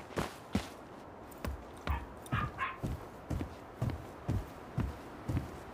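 A dog barks repeatedly in the video game Tell Me Why, about a dozen evenly spaced sharp barks at moderate distance, each short and punchy over a quiet background with no speech.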